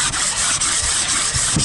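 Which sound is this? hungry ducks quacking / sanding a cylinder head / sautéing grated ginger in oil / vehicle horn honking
sanding a cylinder head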